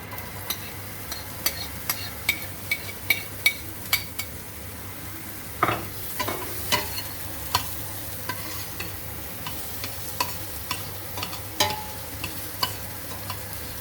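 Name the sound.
onions frying in melted butter for fried rice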